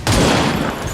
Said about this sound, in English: Now I'm taking the shot with Dragonova